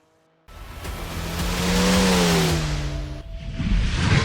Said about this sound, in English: So here we are, smashing it down the main straight.